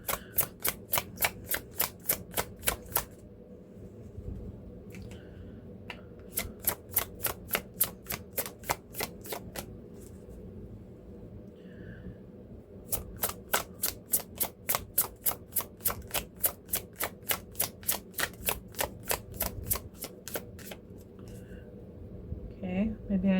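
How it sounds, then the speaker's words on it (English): Tarot cards are riffled and shuffled in repeated bursts of rapid crisp flutters, close and fairly loud, with quiet pauses between rounds and a voice speaking softly in places. "maybe I need to shuffle a different way"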